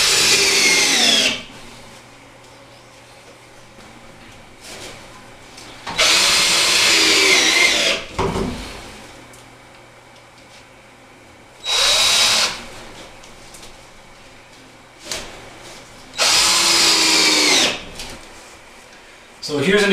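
A power drill drives screws into wood framing for drywall during a bathroom door replacement, with several loud whirring bursts separated by quieter stretches of room sound and handling noise.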